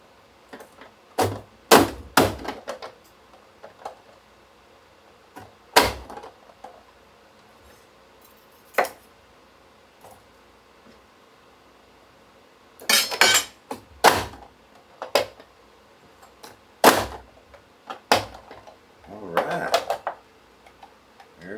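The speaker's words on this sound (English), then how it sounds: "There's my peppers all chopped up." Knife chopping peppers on a cutting board, heard as scattered sharp wooden knocks, some single, some in quick bursts of several strokes, close and fairly loud with quiet gaps between.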